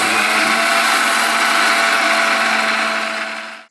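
A mixer grinder jar powders ghee-roasted urad dal with a loud, steady whirring roar that runs without a break and then winds down at the very end.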